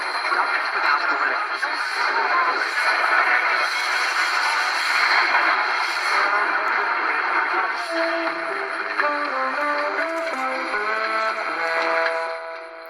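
AM station 1610 CHHA Toronto playing music through a Sony ICR-EX25 radio, heard as a thin, noisy distant signal, with clearer tonal notes emerging toward the end, steady and fairly loud.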